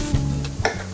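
Leek sizzling in oil in a soup pot while being stirred, a close hiss broken by a few sharp scraping stirs within a single second.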